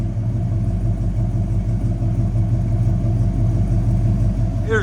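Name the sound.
1971 Ford F100 360 V8 idling with Flowmaster Flow FX exhaust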